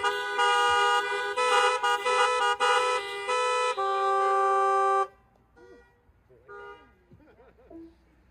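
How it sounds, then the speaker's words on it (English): Car horns honk together at an outdoor drive-in church service, a loud overlapping chorus of sustained and stuttering toots for about five seconds before fading to quieter ambience with a voice speaking. "I invite you to honk your horns and share the peace."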